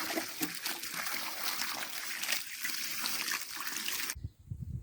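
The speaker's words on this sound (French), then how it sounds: "Je fais un premier arrosage comme ça." Water poured from a watering can or hose onto a newly planted tree in a planting hole, a steady splashing trickle lasting several seconds before it stops abruptly.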